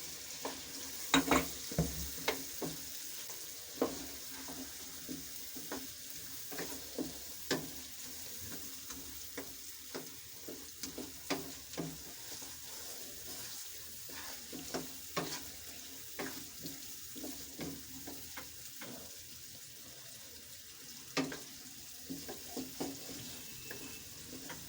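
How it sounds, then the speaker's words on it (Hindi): Potatoes fry with a spice masala in a pan for a mixed-vegetable dish, giving a constant close sizzle punctuated by frequent sharp spatula scrapes and taps. "अब आलूओं को हम 1 मिनट पका लेंगे।"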